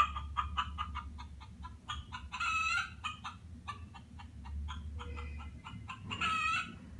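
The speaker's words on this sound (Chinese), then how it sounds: "哇，咕咕咕的声音哦。" Chickens cluck in a quick run of short repeated calls from a pull-tab sound book's farm-animal page, with a brief crowing burst near the middle and again at the end, clear and close.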